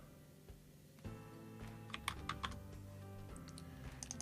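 Quick, light keystrokes on a computer keyboard while entering text in Word 365, a short irregular run of soft clicks, close and fairly quiet with no talking.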